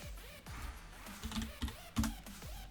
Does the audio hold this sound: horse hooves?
no